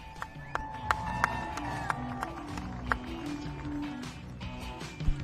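A large outdoor crowd at the Joint Base Andrews Air Show claps and cheers from a distance, scattered sharp claps standing out over a steady murmur, with voices in the background.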